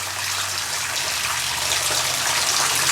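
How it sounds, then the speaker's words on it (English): Spring water trickles and splashes steadily into a pool at a cave-like spring at Abraham Lincoln's birthplace in Kentucky. The hiss of the water stays constant and close, with no one speaking. "The water apparently comes out of there, drips down into this area."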